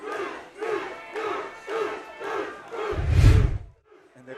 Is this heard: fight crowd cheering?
yes